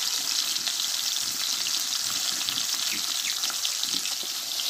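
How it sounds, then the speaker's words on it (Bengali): Two pieces of chandana fish fry lightly in hot oil, giving a steady, bright sizzle that runs unbroken and fairly loud, with faint clinks under it. "দেখো মাছগুলো আমার হালকা করে ভেজে নিচ্ছি 2 পিস।"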